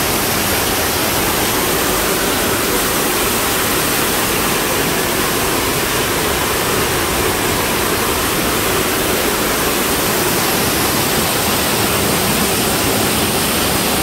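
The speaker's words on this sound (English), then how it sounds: "Pretty cool waterfall." A waterfall at Watkins Glen State Park rushes with a dense, unbroken roar, loud and close, holding perfectly steady for the whole stretch with nothing else standing out above it.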